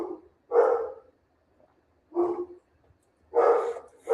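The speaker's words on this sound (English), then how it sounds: "I apologize for him barking." A dog barks at someone arriving, three separate bursts of loud, close barking with short silent gaps between them and no talking.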